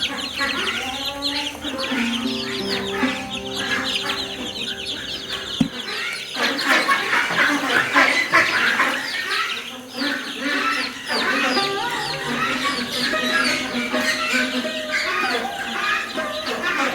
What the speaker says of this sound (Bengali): দেখেন মুরগির বাচ্চাগুলো কিন্তু বড়ই হয়ে গেছে কিন্তু অনেকটাই